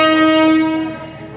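A train blares a loud, sustained horn at close range while passing, the steady tone holding for most of a second and then fading away under a low rumble.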